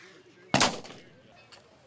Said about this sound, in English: We're in the right spot with the right people shooting the right guns.